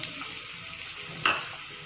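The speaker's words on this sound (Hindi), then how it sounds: "इनको भी मैं 3 से 4 मिनट तक प्याज के साथ और लहसुन अदरक के पेस्ट के साथ अच्छी तरह से भून लूँगी" Capsicum and carrots frying with onion and ginger-garlic paste for pav bhaji give a steady close sizzle, with a brief stirring scrape partway through.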